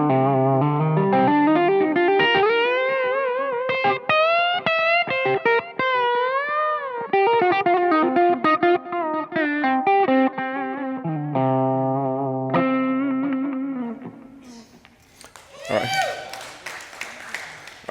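Electric guitar played through a Jackson Audio Asabi overdrive pedal in its blue mode, with symmetrical four-diode clipping, gives a sustained melodic line of driven chords and notes with a close, full tone and a brief burst of crowd noise at the end.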